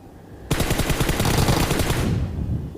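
A sudden burst of rapid automatic gunfire in PUBG Mobile starts abruptly, rattles on loud and close for about a second and a half, then fades out.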